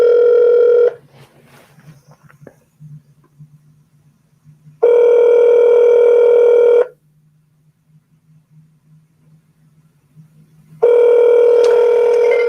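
Ringback tone of an outgoing telephone call, loud steady tones of about two seconds repeating at regular intervals, with a faint voice and low background murmur in the quiet gaps.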